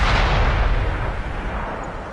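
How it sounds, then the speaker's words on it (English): Loud artillery shell impact on a tank in a World War II tank video game, a heavy booming blast that fills the clip and slowly fades into rumbling decay, no talking. "Oh my gosh, that artillery hurts."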